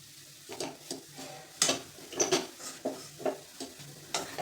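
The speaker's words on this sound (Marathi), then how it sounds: "हे पण मिश्रण हलवून घ्यायचं." A coconut barfi mixture of grated coconut and sugar is stirred in a pan, giving a series of irregular scraping strokes and soft clatters at close range over a faint sizzle.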